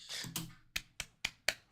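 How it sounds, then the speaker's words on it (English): One person claps five sharp, evenly spaced times, close and dry, after a brief soft rustle, during a live reaction to a Street Fighter 6 beta announcement. "I gotta clap on that one."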